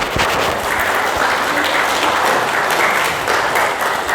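A church congregation claps together in a thick, continuous round of applause that fills the hall evenly from start to finish.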